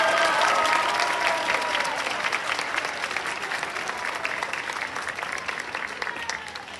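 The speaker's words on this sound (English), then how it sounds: "So I would love for you to clap for our runner-up for Girl of the Year award" An audience claps loudly at a school culmination award ceremony, with dense applause filling the room and slowly tapering off, plus a few scattered voices.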